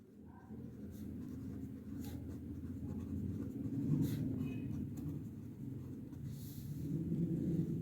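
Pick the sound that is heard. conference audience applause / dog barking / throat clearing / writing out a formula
writing out a formula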